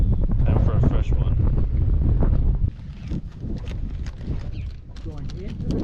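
Wind rushes steadily across the mic aboard a bass fishing boat heading into the current, a loud broadband roar that eases to a lower gust later, with a voice talking under it.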